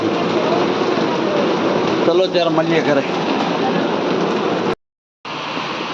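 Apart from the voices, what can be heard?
heavy rain falling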